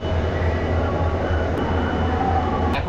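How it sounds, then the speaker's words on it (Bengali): Sri Jagannath Express (18409) passenger train, Shalimar to Puri, heard from a general coach: a steady, loud rumble with continuous low mechanical drone throughout, without talk. "এই দেখো, এই যেই হচ্ছে জগন্নাথ এক্সপ্রেস।"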